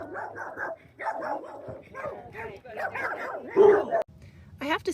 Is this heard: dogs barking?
yes